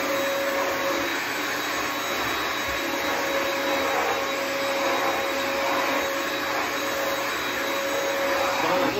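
A Eureka EasyClean HandVac hand vacuum runs in carbon mode, a loud, steady whine with a constant pitched tone that holds unchanged throughout, close to the mic and without any talking.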